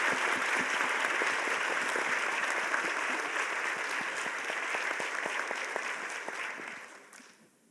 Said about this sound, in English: Let's everyone give our panel a really warm round of applause.